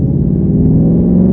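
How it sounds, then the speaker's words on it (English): A 2018-2020 Mustang GT fitted with an MBRP aluminized race cat-back exhaust cruises with a steady, loud low drone and rumble, heard alone without speech. "So I have to say, I really do love this exhaust system."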